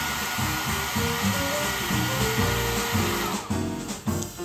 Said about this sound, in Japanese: ドライヤーの風力もいい感じでした。